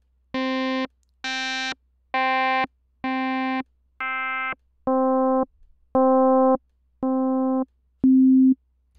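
Nine evenly spaced beeping notes come from Ableton Operator, an FM synthesizer, after its operator routing is changed; each is a clean, buzzy tone of about half a second, the later ones slightly lower and mellower.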